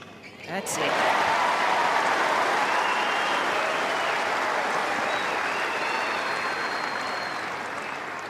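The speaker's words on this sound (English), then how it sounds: "Crowd showing their appreciation." A tennis crowd at the Australian Open applauds in a long sustained burst that swells after a sharp start and then holds steady, fading slightly toward the end.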